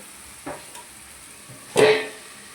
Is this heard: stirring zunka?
yes